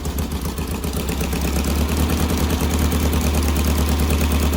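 An 1800cc engine with a slight exhaust leak idles at about 600 RPM, a loud steady low rumble with a fast even chugging pulse and mechanical clatter, close by and with no talking.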